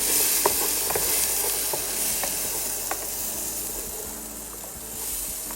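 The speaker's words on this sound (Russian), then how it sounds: "обжариваем, чтобы специи с нутом подружились" Chickpeas with spices fry in olive oil in a pan, giving a steady close sizzle broken by small pops and a few stirring scrapes, with no talking.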